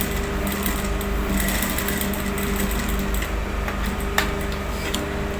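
A sewing machine stitching down a shirt cuff, running steadily with a fast, even mechanical whir and ticking throughout, close and fairly loud, with one brief sharper click near the end.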